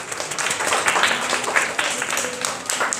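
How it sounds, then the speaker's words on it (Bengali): Group clapping at a school prize-giving for a third-grade student receiving a pen, a steady crowd of hands clapping close and fairly loud for a few seconds. "আমরা সবাই হাততালি দেই।"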